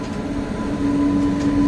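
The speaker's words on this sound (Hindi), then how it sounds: "सामने भाई अराइवल हो रहा है गोरखपुर से चलकर हटिया को आने वाली मौर्य एक्सप्रेस का" Maurya Express, a Gorakhpur to Hatia passenger train, pulling into a station with a steady rolling rumble and a sustained mid-pitched tone that grows slightly louder as it approaches.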